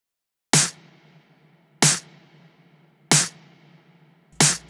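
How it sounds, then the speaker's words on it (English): Four layered snare drum hits from a Vengeance sample kit, each a sharp bright crack with a short decaying tail, evenly spaced at slow intervals and played alone. "I just pulled in 2 snares from a Vengeance kit that I have, and these are the 2 snares."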